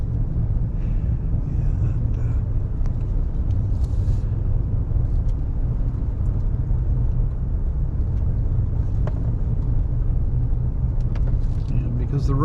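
Plow truck rolling along an icy road during storm cleanup, a steady low engine and road rumble from inside the cab, with someone talking over it.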